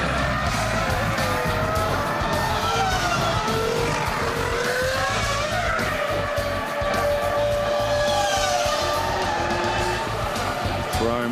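Formula 1 race cars at the 2003 Imola Grand Prix, loud high-revving engines screaming past with rising and falling pitch, continuous and close, with commentary over the roar.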